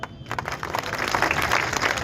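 An audience at a public gathering in Aurangabad breaks into steady, dense clapping that swells slightly and holds, with no talking over it.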